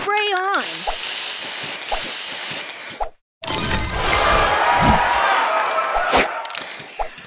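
A spray booster in the Match Masters puzzle game fires with a bright rising chime, then a long loud hissing spray with scattered pops and plops, cut by a brief silence midway; game effects only, no talk.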